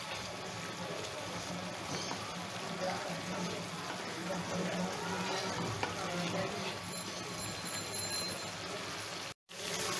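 Mustard spice paste with chili powder being sautéed in oil for shorshe ilish, a dense steady sizzle with stirring scrapes throughout, a faint tonal beep in the background and a brief dropout near the end.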